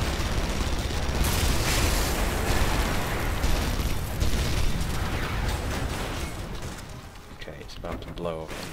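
Explosions and gunfire in the video game Red Faction Guerrilla, dense loud blasts and rapid bursts filling the scene continuously, fading somewhat toward the end as a voice speaks briefly.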